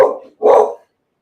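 A dog named Sable lets out two loud, close barks, the first trailing off and the second a sharper bark after a short pause, with silence following.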